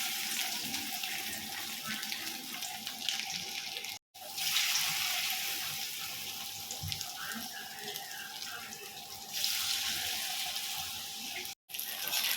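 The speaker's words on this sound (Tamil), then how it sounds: "அதில் எண்ணெய் விட்டு எண்ணெய் ஹீட் ஆனதுக்கப்புறம் இந்த முட்டையை நம்ம பொரிச்சு எடுத்துக்கலாம்" Boiled eggs deep-fry in hot oil for egg manchurian, a continuous, dense bubbling hiss heard close up that carries on steadily apart from two brief cuts.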